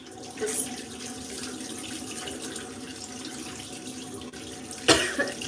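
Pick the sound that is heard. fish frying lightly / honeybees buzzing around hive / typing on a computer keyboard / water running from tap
water running from tap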